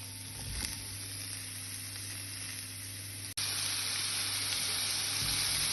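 Onions, peppers and seasoning fry for a beef stew, giving a steady close sizzling hiss that grows louder partway through after a brief break.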